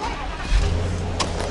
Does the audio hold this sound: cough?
no